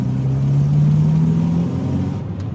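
An Austin Maestro, an old barn-find car, pulls hard in second gear, its engine note steadily rising in pitch as it accelerates, loud and close, with no talk over it.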